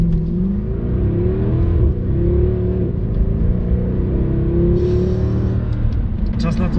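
A Mercedes-AMG C63 with a naturally aspirated 6.2-litre V8 accelerates hard from inside the cabin, its loud, deep engine roar climbing steadily in pitch through a long pull before a brief shift near the end.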